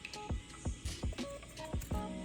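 Sharp scissors cut across a flannel shirt in a rapid series of crisp, close snips, each followed by a soft rustle of fabric, with no voice.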